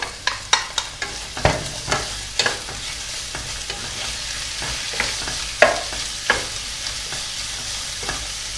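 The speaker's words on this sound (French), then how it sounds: "Donc, les oignons et l'ail dans la sauteuse." Onions and garlic sauté in a large frying pan over gas, a continuous sizzle broken by repeated scraping knocks of a wooden spoon stirring at an irregular pace, close and fairly loud.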